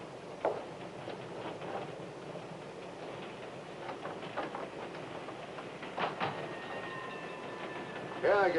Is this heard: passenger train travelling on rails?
yes